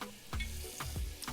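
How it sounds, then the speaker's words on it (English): About 4 tablespoons of butter sizzling and crackling in a pot over medium heat, a close steady hiss with a few louder pops and spits. "Listen to it sizzle."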